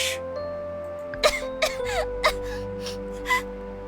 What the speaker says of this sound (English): More coughs rattled in her chest.